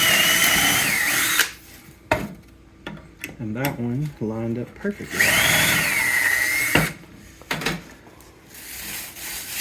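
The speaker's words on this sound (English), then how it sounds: "Just put your drill bit in there." A power drill boring a bolt hole in a collapsible work table, with short whirring bursts separated by pauses and someone speaking briefly in between.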